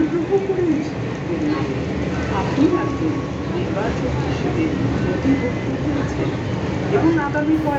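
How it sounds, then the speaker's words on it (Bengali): Steady rumble and rattle of a Kolkata metro train in motion, with people talking over the continuous ride noise. "আমরা মেট্রোতে উঠে গিয়েছি"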